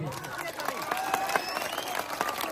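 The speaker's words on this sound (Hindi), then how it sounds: "बिहार के भविष्य के नाम पे जोर से ताली बजाइए" A crowd at a public rally in Bihar claps together for a few seconds, with scattered, uneven hand claps at moderate distance and a faint murmur of voices.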